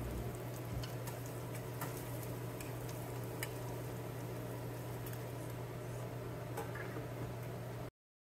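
Dried red chillies and green chillies sizzle in hot oil for a tadka, a faint, steady crackle with scattered small pops and no voices.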